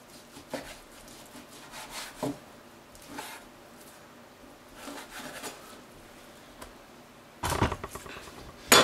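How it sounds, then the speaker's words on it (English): Knife trimming the fat cap from the short-rib side of a prime rib roast, heard as a series of soft scraping, rubbing strokes at irregular intervals, with a louder burst of slicing and handling near the end. "Trim up the fat cap, trim up some of this here."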